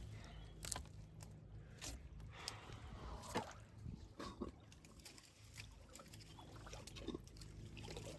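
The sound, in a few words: boot suction in mud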